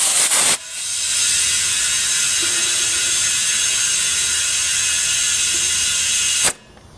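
Compressed air hisses steadily into a plugged car tire as it is refilled, a loud continuous rush lasting about six seconds that starts and stops abruptly with short clicks at either end.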